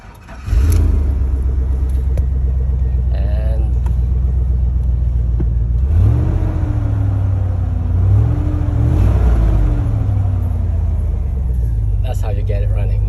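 A Chevy LS 5.3 V8 swapped into a Land Rover Defender idles loudly and close by with a deep steady rumble, a couple of gentle throttle rises in the middle, and a voice talking over the engine.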